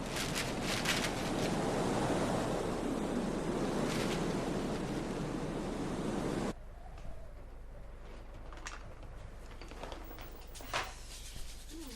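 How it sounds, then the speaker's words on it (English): Strong wind blows on a windy day outdoors, a loud, broad rushing roar buffeting the microphone for several seconds before dropping abruptly to a quieter, gusty background with faint occasional knocks. "It's only the wind."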